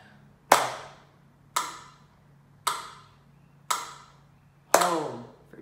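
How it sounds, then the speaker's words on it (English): Hands clapping a steady rhythm at 60 beats per minute, five crisp, evenly spaced claps about a second apart, clear and close against a quiet background. "So let's clap through our rhythm rainbow, starting at the top."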